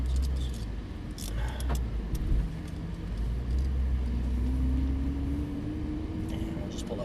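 Porsche 991 GT3 rolling slowly on a racetrack, heard from inside the cabin as a low, steady engine rumble with a rising tone late on, plus a few light clicks and muffled voices.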